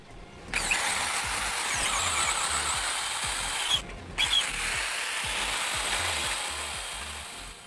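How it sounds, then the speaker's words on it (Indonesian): A power drill bores a 12 mm bolt hole in metal for a homemade hydraulic press, running as a steady, loud whining grind that briefly cuts out twice, with no talking. "ini kita bor baut 12 teman-teman ya"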